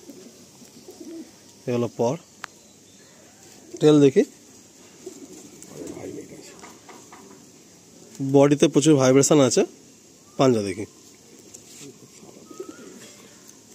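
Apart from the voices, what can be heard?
Madrasi pigeon cooing while handled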